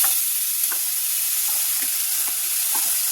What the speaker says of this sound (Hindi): इसमें देखिए ये डालेंगे मूली